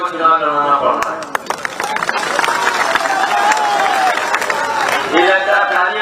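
Crowd at a Samajwadi Party election rally clapping and cheering, a sustained dense patter of applause with voices mixed in.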